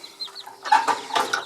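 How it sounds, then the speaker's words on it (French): Pictave hen clucking in a few short, close calls, soft at first and then a louder burst of clucks, with no talk over it. "Ma petite poule pictave qui est très mignonne."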